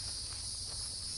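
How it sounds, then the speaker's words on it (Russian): Steady insect chirring at a ranch, crickets or cicadas, a constant high buzzing drone that fills the background with no talk over it. "Мы в детстве не знали слова цикады, наверное, знали только сверчки."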